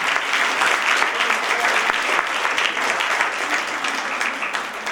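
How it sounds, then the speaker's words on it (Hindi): Audience at a university convocation in Uttarakhand applauding a doctoral degree recipient, a dense, continuous wash of many hands clapping at even loudness throughout, with no individual voices standing out. "तालियां बजाते हैं।"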